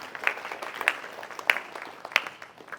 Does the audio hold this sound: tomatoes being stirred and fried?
no